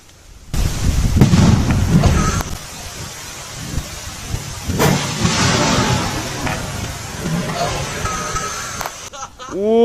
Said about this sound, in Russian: И подожгли. Сейчас проверим, как она бомбанет.